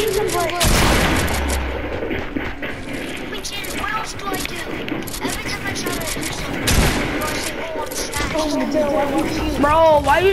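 Gunfire in the video game Fortnite pops in rapid repeated bursts and booms throughout a busy, loud mix, with players talking over the shooting.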